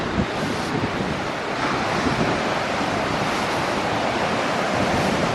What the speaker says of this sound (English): Oh, the sea's noisy here.